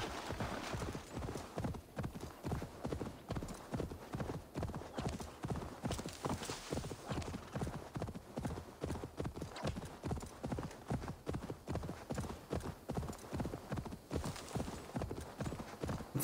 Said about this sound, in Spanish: Mira cómo me espera el caballo directamente sin tener que llamarle.